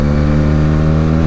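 Benelli TNT 300 motorcycle engine idling and revving up close, a loud, steady harmonic drone with a slight rise in pitch and no voices.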